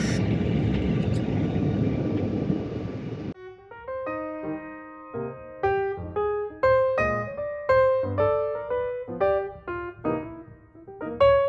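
A steady, loud broadband hum fills a CRJ-900 airliner cabin before departure for about three seconds, then gives way to a rhythmic sequence of clear ringing musical notes that continues to the end.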